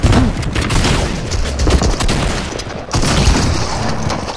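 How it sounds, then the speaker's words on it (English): Rocket launcher blasts and gunfire in a Fortnite match, dense booming explosions and rattling shots piling up continuously, loud and close throughout. "first people that come in just blast me with the rocket launcher"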